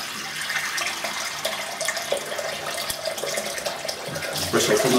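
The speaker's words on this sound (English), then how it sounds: "I'll put some water in there." Water runs from a tap into an old coffee mug holding pressed shaving soap for lathering, a steady close splashing hiss that swells slightly toward the end.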